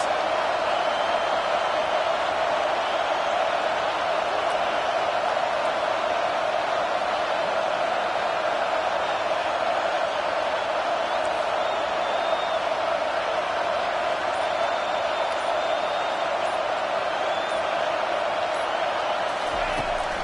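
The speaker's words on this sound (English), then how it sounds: "this crowd is making it miserable on this offense" Stadium crowd roar in the NCAA 25 college football video game on a fourth-down play, a steady, dense wash of cheering and noise holding level throughout with no pauses.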